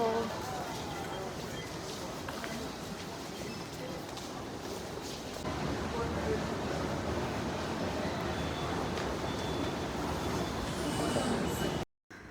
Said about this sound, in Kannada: ವಿ ಆರ್ ಇನ್ ನಮ್ಮ ಮೆಟ್ರೋ